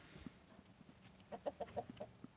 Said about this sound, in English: Let's check on the chickens, see how they're doing.